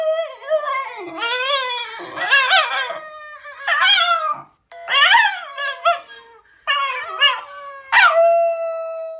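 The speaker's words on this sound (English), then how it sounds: "travelers have reported hearing Basenjis make yowling and crowing sounds at night" A Basenji dog yowls in a series of close, loud, wavering howls and yodel-like cries, each rising and falling, separated by brief pauses.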